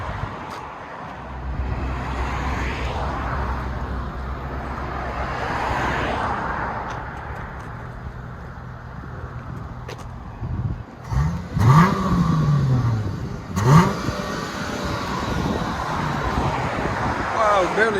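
A steady low exhaust drone from a car with its resonator deleted hums throughout while it drives, with occasional louder surges and brief voices near the end.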